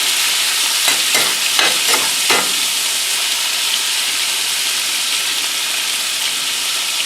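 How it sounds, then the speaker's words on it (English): Beef sizzles loudly in hot oil in a pan, with several quick scraping tosses in the first seconds before settling into a steady, bright frying hiss. "Toss it around a little bit, get your meat coated with the oil."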